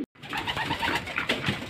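Racing pigeons in a loft coo softly and continuously, a steady murmur of several birds close by after a brief silent start.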